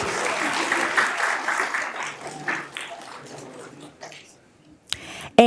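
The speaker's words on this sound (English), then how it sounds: "Let's give them all a round of applause." Warm crowd applause at a school board meeting, loud and full at first, then thinning out and fading to scattered claps before a few noises at the end.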